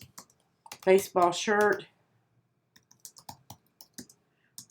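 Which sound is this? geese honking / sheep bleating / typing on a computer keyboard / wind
typing on a computer keyboard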